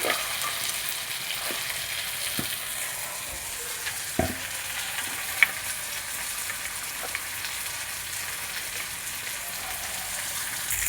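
Ingredients for avarekai sambar frying in a pan, a constant hissing sizzle with occasional soft taps and stirring knocks, close by and without speech.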